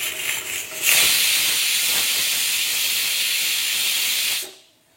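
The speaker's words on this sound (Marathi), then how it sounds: "आता फर्स्ट विसल येयला." A pressure cooker whistle hisses loudly and steadily for several seconds while pork boils inside, then dies away, with no talking.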